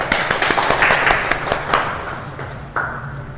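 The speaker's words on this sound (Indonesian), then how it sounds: "Ya, tepuk tangan dulu." Audience applause fills a classroom teaching session, dense overlapping claps strongest in the first two seconds, then thinning and fading toward the end.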